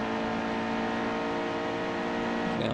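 An Xfinity race car in NASCAR Heat 2 at Las Vegas accelerates, a steady loud droning engine with a constant high whine and no break, alone without talk.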